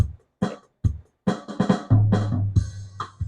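An Alesis SR-18 drum machine plays a fill before returning to its A pattern, with punchy kick and snare hits in a quick broken rhythm followed by a sustained low bass tone, loud and close.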